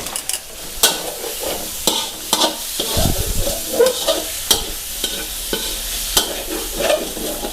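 Pre-cooked pork belly is stir-fried with chili-ginger curry paste in a pan. A steady sizzle runs under repeated sharp scrapes and clacks of the spatula tossing the meat, up close and with no voices.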